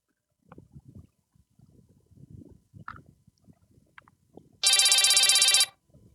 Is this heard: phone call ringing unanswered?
yes